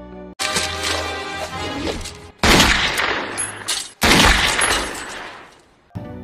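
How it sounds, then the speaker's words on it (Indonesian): Bursts of loud pistol gunfire in a film with crashing impacts, two abrupt cuts between dense volleys, close and harsh with no talking. "Mark akan membunuh John dengan pistol, tapi Trish membunuhnya tepat waktunya."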